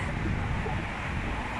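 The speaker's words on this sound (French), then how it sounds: "le vent, il est puissant" Strong wind blowing hard across a bridge in Spain while cycling, a steady loud roar of gusts buffeting the microphone, continuous and close with no voices.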